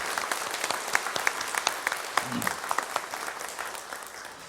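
Church congregation applauding at a Sunday worship service, a steady dense wash of clapping with crisp individual claps standing out, sustained throughout and slowly tapering toward the end.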